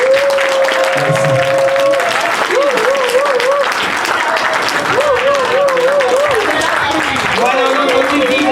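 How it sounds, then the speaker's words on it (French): Sustained crowd applause at a political party conference of the URCIN in Côte d'Ivoire, loud and continuous throughout, with an amplified voice speaking and chanting over the clapping. "Les applaudissements pour l'URSSEF"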